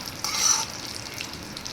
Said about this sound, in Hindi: अब इस ड्राई फ्रूट को हम थोड़ा सा फ्राई करेंगे।